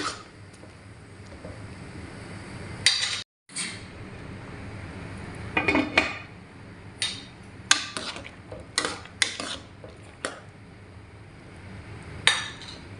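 A spoon stirs squash and string beans in a pot, making scattered clinks and scrapes against the metal at an uneven pace with quiet gaps between them, close and fairly soft.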